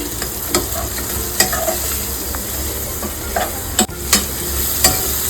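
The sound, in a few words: stirring and mixing chicken biryani in a frying pot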